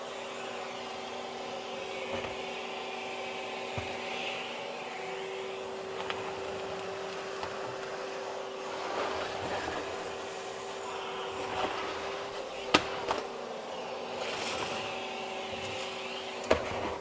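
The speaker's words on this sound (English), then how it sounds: "Just vacuum cleaner sound in the face." A vacuum cleaner runs while a garage and office are cleaned, a steady low drone with a constant hum, fairly quiet and distant, broken by a few brief knocks and clicks.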